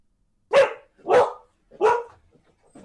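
A dog barks three times in a slow, evenly spaced series, each bark fairly close and distinct, with a fourth starting at the very end and quiet gaps between.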